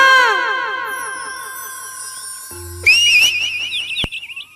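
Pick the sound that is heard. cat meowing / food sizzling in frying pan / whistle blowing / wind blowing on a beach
whistle blowing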